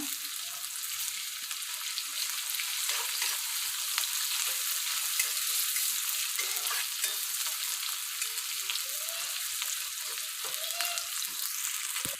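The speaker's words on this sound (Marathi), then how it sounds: "आता कांदा कडीपत्ता चांगला व्यवस्थित तेलावरती मिक्स करून घ्या म्हणजे सॉफ्ट होईपर्यंत" Onion and curry leaves frying in hot oil for a spicy karela (bitter gourd) bhaji, a steady bright sizzle with occasional stirring scrapes and soft pops, close and continuous with no voices.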